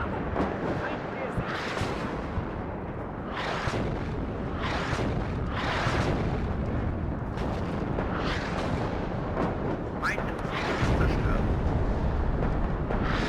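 A tank being destroyed in the war strategy game WARNO, with heavy artillery-like blasts and booming explosions rolling continuously amid battlefield din, while voices talk over it.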